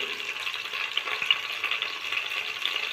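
Chopped onion and green chillies fry in hot oil for an egg biryani, giving a continuous, close hiss and sizzle with faint crackles throughout and no voices.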